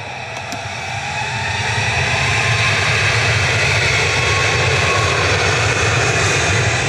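An airplane taking off at Manchester Airport, a loud, steady, broad engine roar that swells in the first second and then holds at full power, close and continuous, with no talk.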